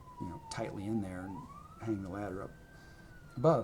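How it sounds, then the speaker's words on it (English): A siren passes outside, its long rising and falling wail faint and steady in the background beneath someone talking nearby. "So sorry about the siren there."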